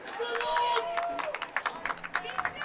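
Crowd at a men's lacrosse game between Aquinas and Indiana Tech reacting with a swell of cheering, scattered claps and babble, loud and close at first, then breaking into short bursts under an announcer's voice.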